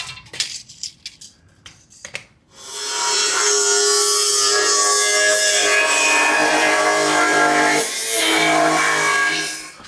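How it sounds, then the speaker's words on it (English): An angle grinder with a small disc cuts metal during fabrication of the back-end support on a 1968 VW custom, a few scraping touches first, then a loud, sustained, close whine that runs steadily for most of the stretch. "I wanted to say one thing about the way I was using the grinder in that"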